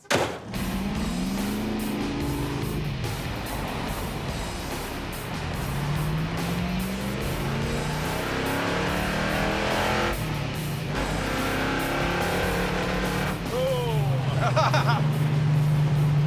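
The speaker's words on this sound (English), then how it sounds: "we're gonna hit the highway and drive it till the battery dies" The engine of an old car drones steadily as it drives on a highway, with tyre and wind noise underneath and shifting engine tones. It is heard close up from inside the car, and voices talk over it at times.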